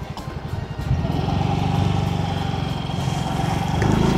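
A scooter rolls along slowly, its small engine puttering steadily up close, with a faint voice in the background.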